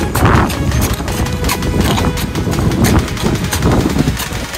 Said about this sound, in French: c'est le cheval de Nadège